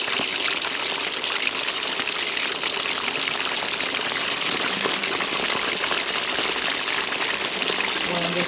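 Chicken wings deep frying in hot oil, producing a dense, steady hiss with fine crackling pops throughout, loud and close without pause.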